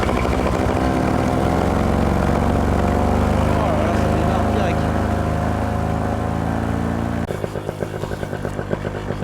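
A paramotor engine fires up and runs steadily and loud at close range, a sustained droning buzz that holds for several seconds before its pitch and rhythm shift near the end.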